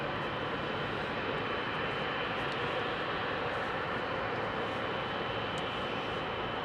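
Malaysian Airbus A330 departing Heathrow at night, a steady, distant broadband jet roar that holds level throughout with no talk.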